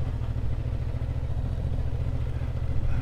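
Motorcycles ride through the entrance of the Capital Moto Week 2024 motorcycle event: a steady, close, low engine rumble with a faint clatter that holds for the whole stretch, with no voices.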